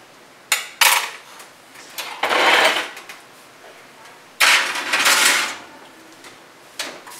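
Brussels sprouts and onions being tossed around in a pan, a series of scraping, clattering bursts of varying length separated by short quiet gaps, close and fairly loud.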